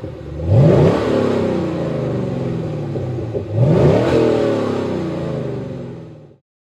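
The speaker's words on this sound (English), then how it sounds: "Flowmaster's most popular street system, the American Thunder series, features an aggressive tone with specially tuned mufflers." A car engine breathing through a Flowmaster American Thunder exhaust with tuned mufflers revs twice, each climbing sharply then holding a loud, aggressive drone before cutting off abruptly.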